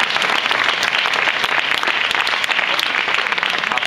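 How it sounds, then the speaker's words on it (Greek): An audience claps steadily and warmly for clarinet students at a Greek music school performance of traditional zonaradiko dances, a dense, even wash of applause without speech. "Ένα χειροκρότημα για τους μαθητές."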